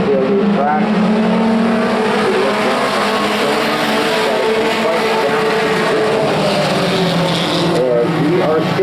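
Northwest Pro 4 Ford race trucks lapping Evergreen Speedway, their engines a loud, continuous roar from the pack with rising and falling pitch as trucks pass, sustained at full volume throughout.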